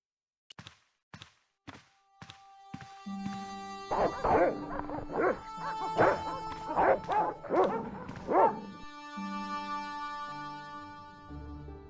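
Guard dogs in the adventure game Broken Sword 1: The Director's Cut, a few sharp thunks first, then a loud burst of repeated yapping barks and yips in quick succession, ending in quiet tones.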